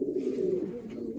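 A pigeon from an old breeding line coos softly and close, a low, rolling throaty call sustained over a second with no other sounds.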